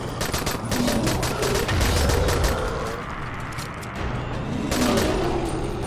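Rais's gun firing in the zombie game Dying Light, a fast stream of loud, close automatic shots over a rumbling low boom, easing briefly before another burst near the end.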